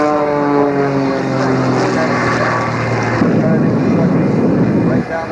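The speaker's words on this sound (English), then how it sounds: "starts up the jet engines" Jet engines of the Shockwave jet truck spool up on an air show runway, a rising whine with droning tones that shifts into a louder broadband roar, with an announcer talking over it.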